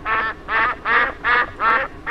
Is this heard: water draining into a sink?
no